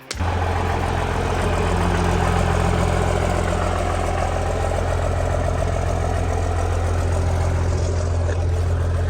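First-generation Cummins diesel pickup engine idling while warming up, a steady loud low rumble with an even clattering pulse, close and continuous, no talk.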